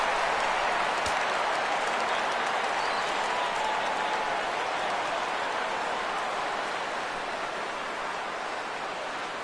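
A baseball stadium crowd at a Blue Jays–White Sox game cheers and applauds on a full count, a dense, sustained roar with one sharp crack near the start and no clear talk.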